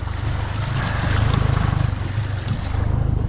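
Choppy water slaps and bounces against a small boat in a steady, loud wash, thick with low rumble and wind buffeting across the microphone, without any talking.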